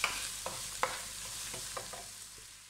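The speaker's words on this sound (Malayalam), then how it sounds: "സവാള നന്നായി വഴന്ന ഒരു ഗോൾഡൻ കളർ ആവണം" Onions frying and being stirred in a pan for a tomato chutney, a steady sizzle broken by several soft scraping stirs of a spoon, close and alone without talk.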